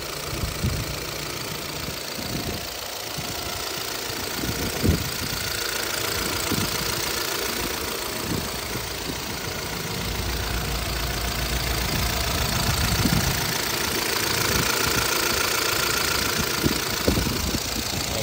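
A 2012 Chevrolet Cruze LTZ engine idles up close with a knocking fault, a steady mechanical hum broken by irregular tapping knocks throughout.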